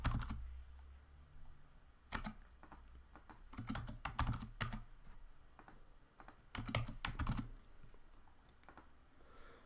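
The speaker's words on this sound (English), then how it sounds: "So I'm going to type some usernames that I want to test the URL against." Usernames are typed on a computer keyboard in quiet bursts of close, crisp key clicks with short pauses between words, and no talking.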